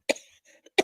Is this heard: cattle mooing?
no